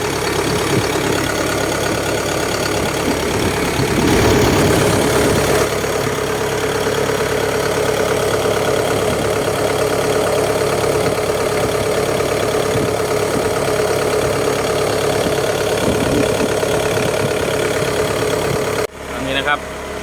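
A Hitachi EX120-3 excavator engine idles after an air-conditioning system installation, a loud close steady rumble that continues for the full length, with a brief swell in the middle and a sudden drop near the end.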